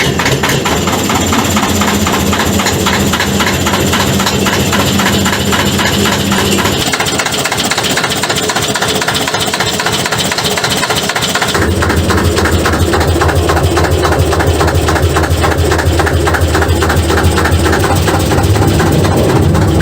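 A Deutz F2L514 two-cylinder air-cooled 2.8-liter diesel engine powers a narrow-gauge locomotive, running loud and close with a rapid, steady mechanical clatter, its tone shifting partway through as the load changes.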